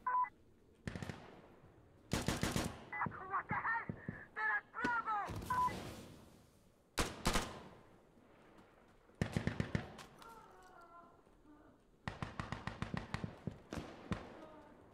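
Gunfire in the tactical shooter Insurgency Sandstorm: rapid bursts of automatic shots and single cracks in loud clusters separated by short pauses, with a voice talking faintly between them.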